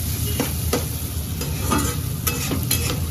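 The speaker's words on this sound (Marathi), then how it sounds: "थोडंसं फक्त नुसतं फ्राय करायचं यांना तेलामध्ये थोडं चांगलं." Noodles frying in oil in a large kadhai at home, with a steady close sizzle and repeated scraping stir strokes throughout.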